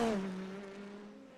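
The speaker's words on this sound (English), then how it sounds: "I can hear very, very strong the cars." Race car engines in the iRacing sim during an Indy Lights league race, a steady droning engine tone that dips in pitch in the first moments and then holds even, loud and continuous with no talk.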